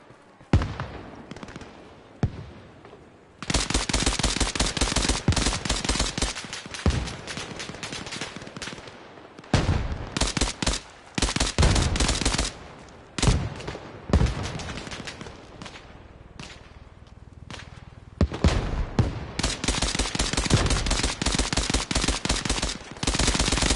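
Dense gunfire in the military video game ARMA Reforger on PS5: long stretches of rapid automatic bursts, loud and close, broken by short pauses and a few single shots.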